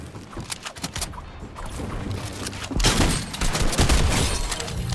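Explosions and rocket launches in a console shooter game boom out in dense, overlapping bursts, the loudest blasts landing in the second half amid a continuous roar of game effects.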